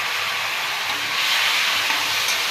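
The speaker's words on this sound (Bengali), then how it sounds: "এর ভিতরে আমি কলা আর আলু দিব।" Green bananas and potatoes sizzle in hot spiced oil with turmeric and salt, a steady loud hiss filling the whole stretch without pause.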